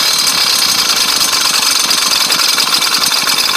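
An engine runs steadily with a boost bottle fitted and no one on the throttle, loud and close with a rough, busy mechanical clatter throughout.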